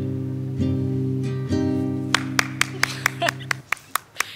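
A lone sung note at a singing audition is followed by a handful of sparse, sharp hand claps from a single person, spaced unevenly and close, rather than a full crowd.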